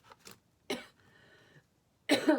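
A few short coughs close to the microphone, separated by quiet pauses, with a faint hum in between.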